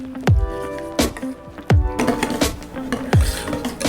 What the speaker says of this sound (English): I'm just using soy sour cream, a little pinch of salt, and then you can just whisk that together.